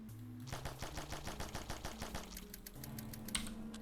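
Rapid automatic gunfire sound effects for a video game in development rattle off in a quick, evenly spaced burst, then trail into a few scattered shots and faint mechanical clicks.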